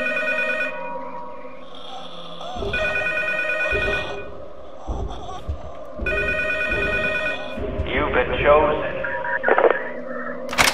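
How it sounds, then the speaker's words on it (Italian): Telephone ringing in the horror video game P.T., a repeating electronic ring over tense, droning game ambience with voices talking throughout, the ringing bursts recurring every second or so. "Seconda risata e suona il telefono."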